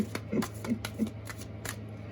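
A deck of cards being shuffled by hand, a few crisp riffling snaps and flicks in short bursts, close-up over a faint steady hum, no speech.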